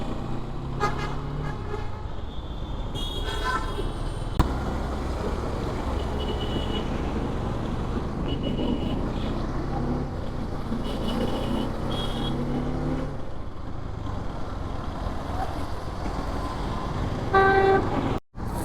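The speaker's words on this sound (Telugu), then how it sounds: "ఇంత ట్రాఫిక్ జామ్ ఉంది." A morning traffic jam on a city road at office hour, with a steady hum of idling and creeping engines, several short car horn toots near and far, and a rumble of heavier vehicles throughout.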